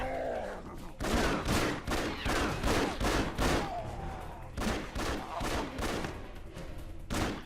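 Repeated bursts of gunfire from the video game Afterfall Insanity, loud rapid volleys coming in clusters with brief gaps between them, heavy and close, with no talking over them.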